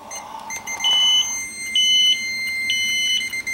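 A Testo refrigerant leak detector for R410a sounds its full alarm, a loud, steady high-pitched electronic beep repeating in three sustained bursts close by with no talking.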